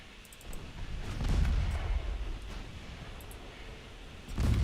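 Battleship main guns fire in Ultimate Admiral Dreadnoughts, deep muffled booms rumbling low and somewhat distant, swelling around the middle and again sharply at the end.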